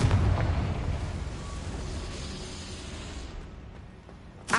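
A Confringo explosive spell goes off in the video game Hogwarts Legacy, giving a loud, booming, rumbling blast that slowly fades and then ends in a short sharp burst.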